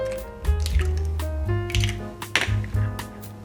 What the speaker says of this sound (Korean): 계란 3개를 먼저 이렇게 볼에 담아 놓으시고요